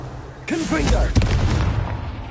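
A Confringo blast spell fires in Hogwarts Legacy with a booming burst against dense game music and ambience, and a voice briefly speaks just before the impact.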